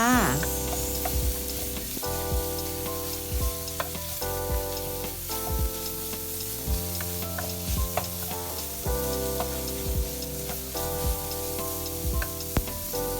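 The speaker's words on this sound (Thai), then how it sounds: "เราก็ใส่หมูสับของเราลงไปเลย ผัดคลุกเข้าให้เข้ากันเลยจ้า" Minced pork stir-fried in chili paste crackles and sizzles steadily, with occasional stirring scrapes, beneath prominent background music.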